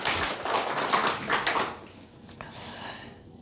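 Church congregation clapping together, a brisk run of sharp hand claps for about a second and a half that quickly thins out and fades to a few scattered claps and quiet.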